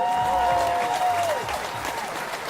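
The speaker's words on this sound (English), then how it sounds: "Tony, can we get a round of applause for her?" Studio audience applauding a guest, a dense wash of clapping under a voice briefly speaking over it.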